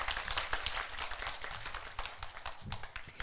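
Faint, scattered clapping from an audience at a kindergarten children's performance, uneven and fairly distant, with light background activity throughout.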